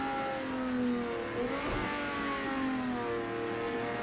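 A race car in a racing sim video game pulls hard down a straight, its engine holding a high, steady whine with a quick gear change midway before it climbs again, loud and continuous with no talk.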